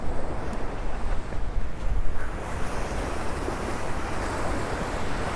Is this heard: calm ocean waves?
yes